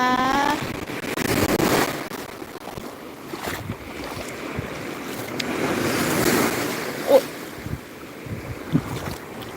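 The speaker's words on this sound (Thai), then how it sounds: "ฟังเสียงคลื่นค่ะ ฟังเสียงคลื่นนะคะ" Ocean waves surge and wash in on a beach, with wind buffeting the microphone; the surf swells and recedes steadily and fairly loud throughout.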